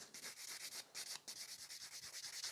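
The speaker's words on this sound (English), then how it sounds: "I'm just grabbing a buffer and then give it a couple scratches to it" A nail buffer scratches rapidly back and forth across a cured, shiny gel top coat, giving close, quiet, rhythmic rasping strokes with one brief pause and no talking.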